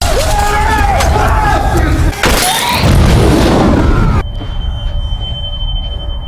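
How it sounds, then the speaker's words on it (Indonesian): A loud boom bursts out midway through a dramatic film scene, following tense music and voices, then gives way to a thin high electronic tone. "Setelah ledakan itu"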